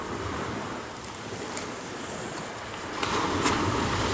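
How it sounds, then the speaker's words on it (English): Wind rushes across the microphone by the sea in Jamaica while waves wash and surge, a continuous broadband roar that swells louder near the end, with no voices. "Enjoy this wind."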